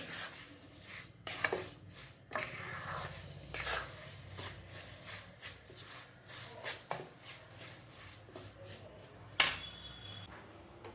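Lemon pickle is being stirred together with red chilli powder, giving a soft, continuous scraping and mixing sound with a few sharper scrapes against the vessel, close by and fairly quiet.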